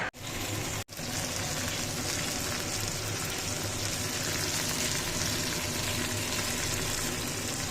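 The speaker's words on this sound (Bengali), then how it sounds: "মাছটা ভাজা হচ্ছে" Fish frying in hot oil in a Bengali home kitchen, a loud, continuous sizzle with a couple of brief dropouts near the start, then unbroken crackling.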